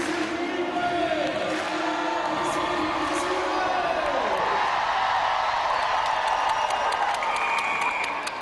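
Netball arena crowd at Sydney Olympic Park in full song during a world cup match between England and New Zealand, a loud sustained mass of voices filling the hall with cheering swells and a commentator talking over it.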